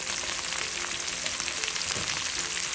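Tomato frying in a pan with shallots and garlic for a tomato, mushroom and egg omelette: a steady, close, broadband sizzle holding at an even level throughout, with no talking.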